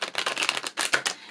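A deck of Moonology oracle advice cards being shuffled up close, a quick crisp riffle of flicking card edges in two short bursts, loud and alone.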